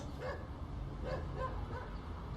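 A dog barking in a neighborhood, a few faint distant woofs and yips spread over two seconds against a low background hum.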